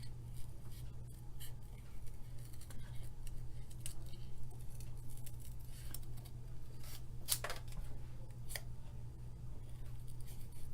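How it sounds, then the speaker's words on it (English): Scissors fussy cutting a paper stamp image for a handmade card, faint repeated snips and paper rustles over a constant low hum, with a couple of sharper crisp cuts. "I'm just going to fussy cut this"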